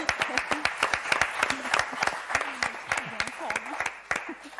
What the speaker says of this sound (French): Ils sont adorables d'applaudir